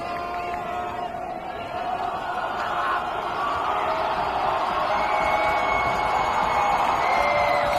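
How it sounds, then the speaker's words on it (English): A large outdoor crowd at a high school football game roars and swells steadily louder, a dense wash of cheering and shouting that builds and holds near the end. "And the Corner Canyon crowd gets loud."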